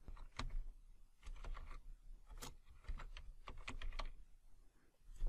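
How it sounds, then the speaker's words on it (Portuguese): Irregular keystrokes on a computer keyboard as a word is typed during Photoshop work: a run of close, crisp clicks at uneven spacing with no one talking. "vou digitar aqui cruzada"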